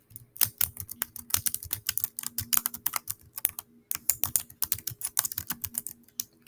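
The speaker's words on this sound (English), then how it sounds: "I will type this." Rapid, uneven keystrokes on a computer keyboard, close and clear, in bursts of clicking with a few short pauses, with no voices.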